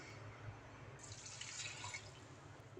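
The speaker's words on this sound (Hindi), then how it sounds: "1 गिलास में इसके अंदर पानी डालूंगी" Water poured from a glass into a pan while making alsi pinni gives a faint splashing rush lasting about a second, then fades back to quiet kitchen background.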